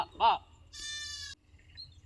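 A goat on a small vegetable farm gives one loud, close bleat lasting about half a second, just after a brief voice-like call.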